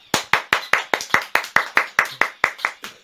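A single person claps hands in a steady, brisk rhythm of about fifteen sharp claps, close and loud, during a children's game of balancing on their feet, with no voices heard.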